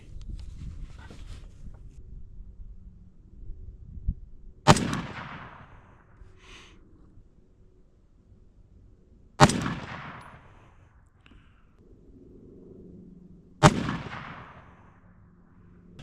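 Three loud, sharp rifle shots from a Ruger SFAR chambered in 6.5, spaced several seconds apart with faint ambient noise in between, each crack trailing off in a short echo.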